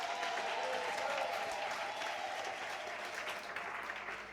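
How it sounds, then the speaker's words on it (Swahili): A congregation at a Pentecost church service applauds for Jesus, a steady dense wash of many hands clapping that holds for several seconds, fairly quiet overall, with no voices over it. "Tunaweza kumshangilia Yesu kwa makofi mengine mazuri"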